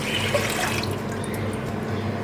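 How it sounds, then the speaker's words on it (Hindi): Water poured from a one-cup measure into a cooking pot for raw mango murabba, a steady close splashing stream that runs on without a break. "इसमें ये मैंने 1 कप पानी लिया, ये मैं डालने लगी हूँ"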